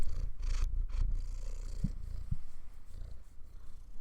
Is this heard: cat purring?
yes